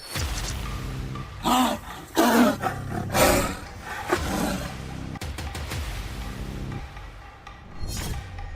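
A tiger roars in rural Uttar Pradesh, giving several deep, rasping roars and grunts in uneven bursts over a noisy, rumbling background.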